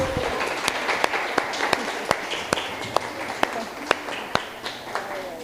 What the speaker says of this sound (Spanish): démosle un aplauso a estas invitadas súper especiales